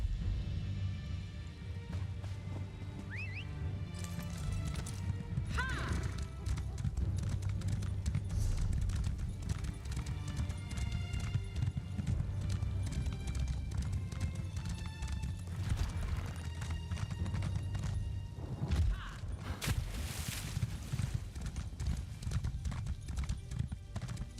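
Steady clip-clop of hooves trotting, with occasional horse whinnies and snorts over a continuous soundtrack from The Elder Scrolls Online, a voice briefly heard.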